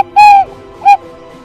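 Two clear, tonal whistle notes from a bird-call lure used to attract birds in a forest village in Banyumas, Indonesia: a longer steady note followed by a short one, close and loud.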